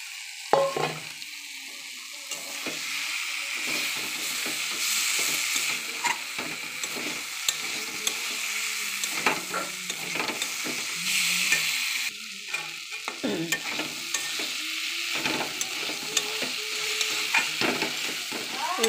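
Spices, tomato, garam masala, long beans, potato and brinjal fry in a pan with a steady sizzle, broken by repeated scraping and clattering as a spatula stirs them, with no talking.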